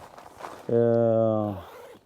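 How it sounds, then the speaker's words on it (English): A zipper on the door of a Decathlon Quechua 3P Fresh and Black tent is drawn in one smooth, steady pull lasting under a second. It is close and loud, with a buzzing tone that tails off at the end. "These are the zippers for the doors"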